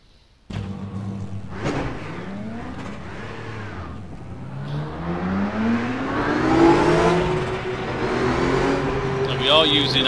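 Race cars on a 20-car grid at the start of an rFactor 2 race, driven with an H-pattern clutch; several engine tones rise steadily together and grow louder and denser over about ten seconds.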